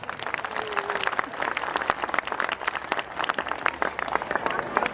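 An audience at a school annual function breaks into loud, continuous clapping, a busy crowd texture that holds steady throughout with some voices mixed in.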